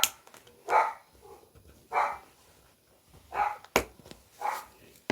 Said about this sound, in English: She don't need to be doing all that barking because she can hardly breathe as it is.